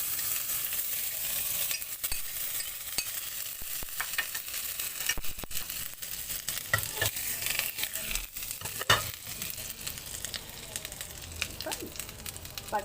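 Butter sizzles and crackles in a pan for tempering a paneer butter masala, a steady close frying hiss with occasional stirring clinks of a utensil.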